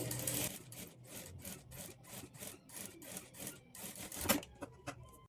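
A sewing machine stitching blouse fabric for a boat neck blouse runs in regular bursts of rapid needle clatter, close up, with a brief louder clack near the end and no talking.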